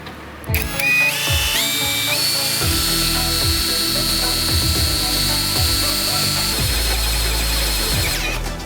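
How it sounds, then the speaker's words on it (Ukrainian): ProCraft brushless cordless drill boring with a 13 mm bit, a loud high whine that steps up in speed, with repeated grinding bursts as the bit bites, close and steady with no talk. "Без проблем 13-кою сверлить."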